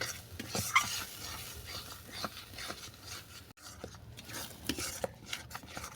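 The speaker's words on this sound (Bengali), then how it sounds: "যতক্ষণ না ভর্তা থেকে তেল বের হচ্ছে ততক্ষণ আমি এটাকে ভালো করে কষিয়ে নেব" Hilsa fish oil bharta being stir-fried in a pan, with steady scraping and stirring, occasional utensil clicks against the metal and a faint background sizzle running throughout.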